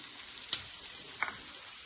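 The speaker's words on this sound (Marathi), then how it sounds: "दोन कांदे मी भाजायला टाकलेत लाल भाजून घ्यायचे" Onions roasting in a pan for a Malvani crab curry paste give a faint, even sizzle with two small crackles, heard alone and quiet.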